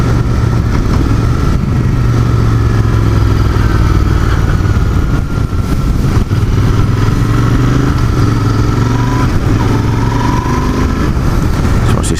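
A 2019 Royal Enfield 650 twin engine running smooth and steady, a loud close mid-pitched drone with light mechanical clatter over twelve seconds, no speech.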